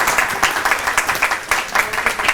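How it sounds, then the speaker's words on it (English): A room of people at a university faculty development session claps in a brief, lively round of applause, uneven hand claps close by and fairly loud. "big round of applause for them"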